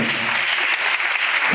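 A crowd applauds Lauryn in a brief, dense burst of clapping that stays even and loud from start to finish.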